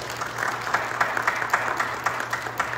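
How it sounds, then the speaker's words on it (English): A church congregation applauds, a sustained wash of many hands clapping at moderate distance with a few sharper accents, steady throughout without speech over it. "Hay que darle un aplauso."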